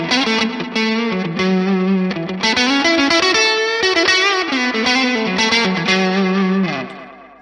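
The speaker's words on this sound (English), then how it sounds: "The effect I'm using on my Helix effects is the Minotaur effect" Electric guitar played through a Line 6 Helix Minotaur overdrive effect with a Nux Tape Core Deluxe delay, a dense, distorted run of chords and notes with echoing repeats trailing off at the end.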